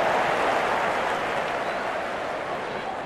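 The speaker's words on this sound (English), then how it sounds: "The crowd is enjoying every bit of this action." A dense, steady roar from a large cricket crowd at a Pakistan vs India match, cheering and applauding after a boundary four, a continuous wash of noise that holds level for the whole stretch.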